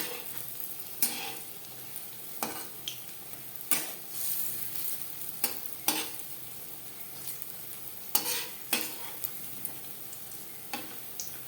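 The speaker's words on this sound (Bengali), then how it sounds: "একটা সাইড ভাজা হয়ে গেলে অপর সাইডটা উল্টে দেবো" Raw banana kofta balls fry in a wok of oil with a steady soft sizzle, punctuated by occasional spoon scrapes and light clinks at close range.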